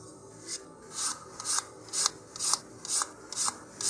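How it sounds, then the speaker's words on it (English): Rhythmic rasping strokes of sandpaper on the edges of a wooden model rocket fin, about eight short back-and-forth passes, close and steady with no talking. "sanding off the corners of each edge"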